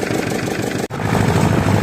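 Vehicle engine revving hard through deep untracked snowdrifts, a loud continuous drone that cuts out for an instant, then returns at a steady high pitch.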